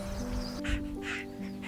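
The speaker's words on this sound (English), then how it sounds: "A bird was nearby. She thought it chirped to go to the right." Two short, bright bird calls from a bird in the woods, as in a children's animated musical story, ring out over steady sustained music tones, each call brief and clear.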